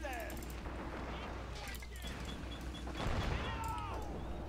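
Gunfire and explosions in the Men of War Assault Squad 2 war video game, a dense steady barrage with a louder burst near the end, mixed with voices and in-game chatter.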